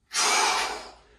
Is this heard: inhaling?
yes